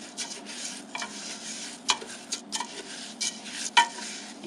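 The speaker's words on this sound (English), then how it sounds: "Now we're just going to stir this up and let it cook." Food being stirred in a cooking pan, scraping and rubbing strokes with a faint sizzle underneath, moderately quiet and close with no talking.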